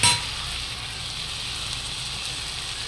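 Chopped onions fry in hot oil for a Bangladeshi egg curry, giving a steady, soft sizzling hiss that continues evenly for a few seconds with no voices.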